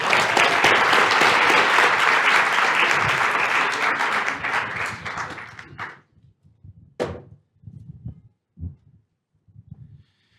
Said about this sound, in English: So a big round of applause for Senator Sims.